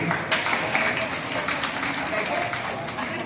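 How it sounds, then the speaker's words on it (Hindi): Audience applause at the Narayani award ceremony, a dense steady wash of clapping hands lasting throughout, moderately loud with a few sharper claps poking out. "मैं आप सभी से निवेदन करना चाहूंगी कि आप सभी की जोरदार तालियां चाहेंगे"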